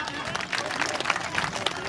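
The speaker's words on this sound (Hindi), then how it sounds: "बहुत ही शानदार भजन हमारी बहन जी के लिए जोरदार तालियां" Applause from an audience at a Veer Tejaji temple program, dense clapping after a bhajan performance, steady and moderately loud with voices mixed in.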